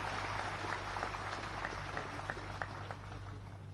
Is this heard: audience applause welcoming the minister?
yes